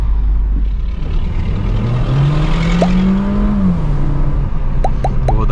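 A VW Polo GTS fitted with an RS sport air filter pulls away in first gear, its engine note rising steadily in pitch under continuous road and wind noise, with brief clicks near the end.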